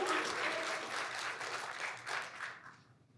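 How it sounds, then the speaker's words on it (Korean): A church congregation breaks into sustained applause during a worship service, dense clapping at steady volume for about three seconds, then tapering off at the end. "영광의 박수"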